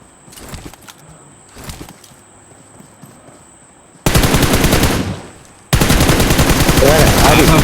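Quiet scuffs and faint rustling, then two loud bursts of rapid machine gun fire in PUBG Mobile, the second longer and sustained to the end.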